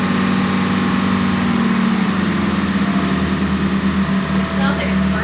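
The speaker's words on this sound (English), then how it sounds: "these green monsters, which are Detroit 453 two-stroke marine diesel engines" A Detroit 453 two-stroke marine diesel engine on a boat runs with a constant heavy low drone and steady mechanical hum, close and loud, while a voice talks over it.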